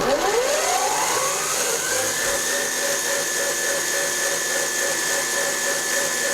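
A mini lathe spins up to its top speed of about 210 RPM, its gears whining loud and steady as the pitch rises in the first couple of seconds, then holding constant.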